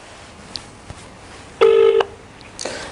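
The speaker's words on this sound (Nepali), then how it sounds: "म उहाँलाई फेरि फोन गर्दैछु" A telephone call being placed during a Nepali live news broadcast: a short steady electronic tone lasting under half a second, preceded and followed by faint clicks against a quiet background hiss.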